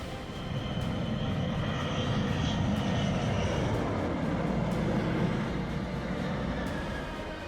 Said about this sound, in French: voici une observation plus rapprochée du magnifique bombardier B-2 alors qu'il atterrit au coucher du soleil